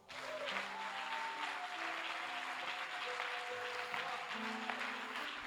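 A church congregation applauds and cheers during a service, a dense sustained wash of clapping from a large crowd with sung or shouted voices and faint instrumental tones underneath.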